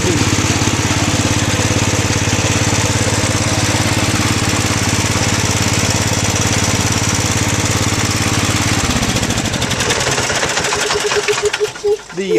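A Bolens 1250 garden tractor with hydrostatic drive runs close by, its engine droning steadily and evenly before the tone shifts and roughens near the end.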